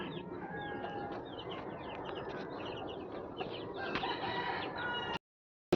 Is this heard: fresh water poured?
no